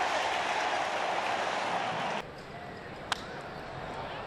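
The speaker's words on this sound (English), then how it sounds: "He's firing up the crowd." Crowd noise at a Chicago Cubs baseball game, a broad steady roar of cheering that drops suddenly to a lower murmur halfway through, with one sharp crack near the end.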